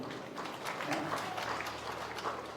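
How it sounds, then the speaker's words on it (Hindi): Audience applause at a religious katha storytelling gathering, a steady wash of many hands clapping that fills the whole stretch at moderate loudness with no talk over it. "ताली बजाओ"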